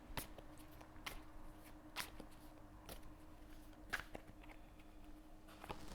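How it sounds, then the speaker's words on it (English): A deck of cards being shuffled, faint and close, with a series of short crisp riffles and flicks spaced irregularly over a quiet room hum. "And then I shuffle the deck"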